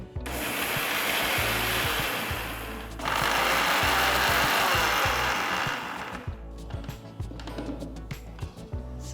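Electric grinder spinning dried red chillies into flakes, a loud steady whirring roar held for about six seconds with a brief dip near the three-second mark, then winding down into rattling and clatter.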